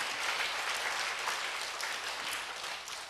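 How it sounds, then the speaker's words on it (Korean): A church congregation applauds in praise during a sermon, a broad, even wash of many hands clapping, fairly distant and soft, sustained for the whole stretch. "박수로 주님께 영광 드립니다"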